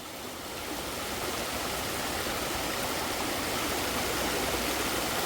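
A woodland creek rushes over rocks on a forest trail, a steady, dense broadband wash of flowing water close by with no voices.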